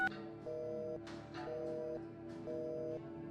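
Telephone dialing in the Realm of Morton adventure game: a series of short electronic tones and beeps in a regular rhythm, each lasting about half a second, fairly quiet and alone.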